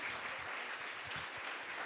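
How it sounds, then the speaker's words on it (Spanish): A church congregation applauds during a service, a faint, distant wash of clapping heard in a short burst at low volume. "pues apláudanle ahora al Señor"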